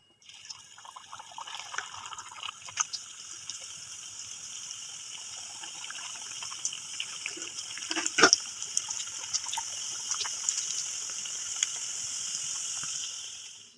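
Thattai, flat rice crackers, frying in hot oil, a steady close sizzle with dense crackling bubbles and a few sharper pops, building slightly louder toward the end with no voices.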